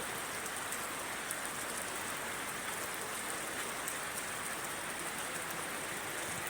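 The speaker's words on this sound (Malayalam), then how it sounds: "എല്ലാ വർഷവും ഒരു അനുഗ്രഹം പോലെയാണ് വേനൽ മഴ കേരളത്തിൽ കാലവർഷം എത്തുന്നത്" Monsoon rain falls on the Konni Medical College grounds in Pathanamthitta district, Kerala, a dense, even downpour hissing without a break, close and uniform with no voices.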